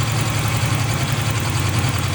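A car engine idles steadily while warming up, a close, continuous low rumble with no talk over it.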